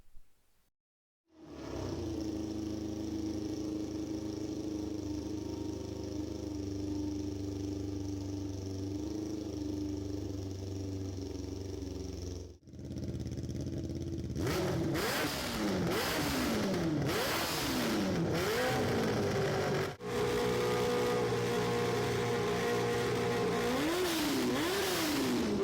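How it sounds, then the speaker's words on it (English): A Honda CBR 600 F3 motorcycle engine of around 100 horsepower, fitted to a DIY buggy, runs on its first test, holding a steady drone before being revved repeatedly in rising and falling sweeps. "now I'll show you some clips of the first testing of the engine"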